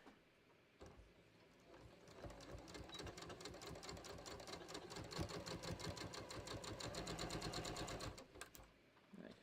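A domestic sewing machine stitches a top in one continuous run of rapid, rhythmic needle ticks, close and steady for about seven seconds before stopping.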